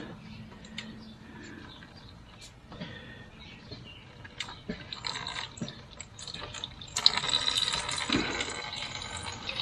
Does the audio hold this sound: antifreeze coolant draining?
yes